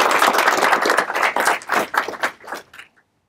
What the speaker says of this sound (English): So please give Blake a big round of applause for his military service.